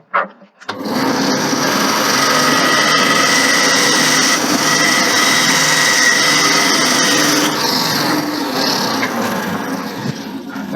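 A band saw cutting a wooden ball whines steadily and loudly for several seconds, a dense high-pitched machine drone that stays constant before easing slightly near the end.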